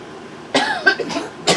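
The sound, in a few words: cough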